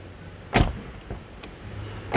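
Car door opening and closing after a latch assembly repair, with a sharp clunk near the start, a softer mechanical click in the middle and another firm thud at the end, all close by over a quiet background.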